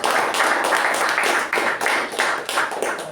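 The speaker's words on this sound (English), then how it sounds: "Let's give both of them a big round of applause." Audience applause at a club meeting, a steady wash of many hands clapping that fills the whole stretch at a fairly loud level with slight surges and dips, with no voices over it.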